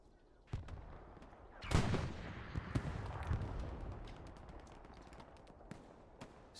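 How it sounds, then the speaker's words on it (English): Battle gunfire in the Hold the Line game match: sharp rifle shots crack singly and in close clusters, with a heavier volley near the start and scattered reports echoing at mixed distances afterward. "Nice shooting over top of the hedge."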